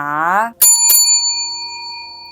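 A bright bicycle-style bell rings twice in quick succession as a subscribe notification chime, its metallic tone ringing on and sustaining clearly, right after a voice stops talking.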